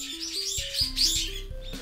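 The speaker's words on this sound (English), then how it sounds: "These birds are going crazy." Birds chirp loudly and busily outdoors in rapid, overlapping high tweets, with a low steady musical tone running beneath them.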